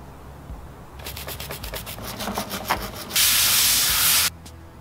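Scrubbing corrosion off a circuit board from a 1985 Fiero car radio: a run of quick rhythmic scratchy strokes, then a louder continuous burst of brushing for about a second, close up and with no talking.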